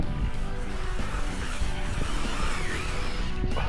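A Losi Hammer Rey RC 4x4 monster truck drives through snow, its electric motor whining and revving continuously up close, with rumbling wheel and chassis noise underneath.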